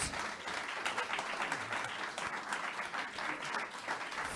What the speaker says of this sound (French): Franz Marotte, veuillez l'applaudir.